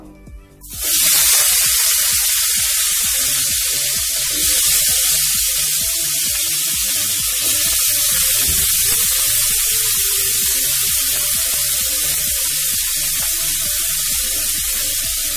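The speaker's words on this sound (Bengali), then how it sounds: "ভালো করে নাড়াচাড়া করে আলুগুলোকে ভেজে নেব" Potatoes frying in hot oil in a kadai, the same oil just used for frying pointed gourd: a loud, steady sizzle and hiss starts abruptly and holds close-up for the whole stretch, with no talking.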